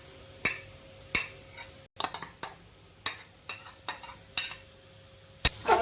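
Boiled raw mango and spices frying in a pan, with repeated sharp scraping and clinking strokes of a spoon stirring against the pan over a low sizzle.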